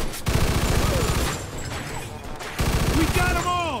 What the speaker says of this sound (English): Stop shooting that fucking thing. I'm going deaf over here.